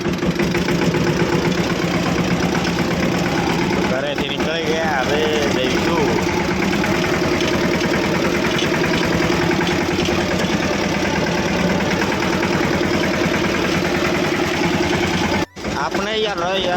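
A tractor engine chugs loudly and steadily while being driven on a rough village road, a continuous close rumble with someone talking over it.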